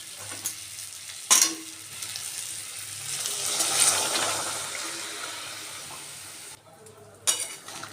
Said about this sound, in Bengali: আমি জলটা অ্যাড করে দেবো